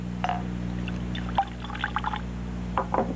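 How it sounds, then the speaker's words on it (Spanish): Water poured from a container as a Mexican dubbing sound effect, a few short splashy pours and trickles over a steady low hum, fairly close and moderately loud. "Se sirven agua."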